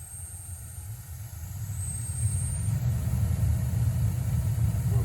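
A gas burner on a Crown steam boiler in Brooklyn, New York, fires at main ignition. Its steady low roar swells louder partway through and then holds as a continuous rumble, with no talking.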